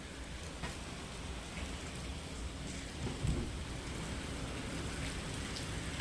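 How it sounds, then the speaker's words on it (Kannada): Heavy rain pours steadily outside a house in the late afternoon, a dense continuous wash of noise with a low rumble of thunder rolling in briefly midway. "ಜೋರು ಮಳೆ ಬರ್ತಾ ಇದೆ ನೋಡಿ. ನಿಮಗೆ ಸೌಂಡ್ ಕೇಳಿಸ್ತಾ ಇರ್ಬೋದು."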